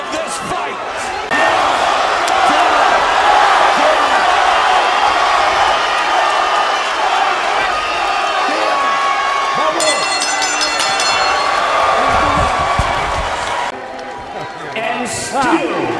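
A boxing arena crowd roars and cheers loudly, with the noise holding steady for most of the clip. It drops toward the end, where a few voices and thumps are heard.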